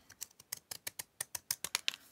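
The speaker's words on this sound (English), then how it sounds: "take my scallop scissors and cut away" Quiet, rapid snips of scallop-edged scissors cutting paper, about a dozen short crisp clicks in a steady rhythm, close by.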